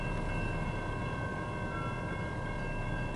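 A CN freight train with an automotive autocarrier, eastbound, rumbling steadily past at moderate distance, a continuous broadband roar with faint tonal whine from the rail wagons, no voices.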